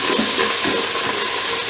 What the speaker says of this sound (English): And I'm gonna fry these for 3 minutes